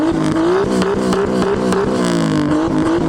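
A Nissan S13 fitted with an RB25 engine revs hard and loud up close, the pitch climbing and dipping in repeated pulls, with no voices over it.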